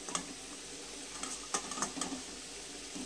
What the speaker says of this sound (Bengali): তেলের মধ্যে আলুগুলোকে দিয়ে আমি ভেজে তুলে নেব